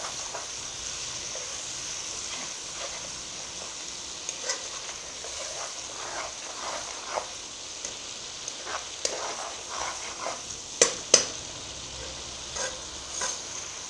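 Green chillies crackling in a small pan of hot oil for a tadka, with a splash of water added, give a steady close sizzle broken by scattered sharp pops and spits that grow louder near the end; no one speaks.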